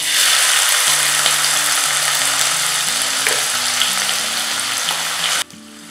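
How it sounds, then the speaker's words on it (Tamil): Onions and fennel seeds fry in hot oil in a pressure cooker pan, a loud steady sizzle with soft stirring knocks running throughout, cutting out abruptly near the end. "வெங்காயம் வந்து நல்லா பொரியணும் நல்லா ப்ரௌன் ஆகணும்"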